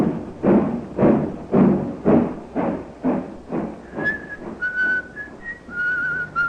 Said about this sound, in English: He's whistling merrily, a man with nothing on his mind except his love affair and the prospect of the week ahead.